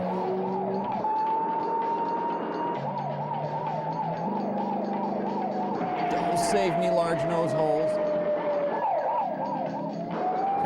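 A wailing siren rises and falls continuously over traffic noise, with people talking over it and a brief clatter midway.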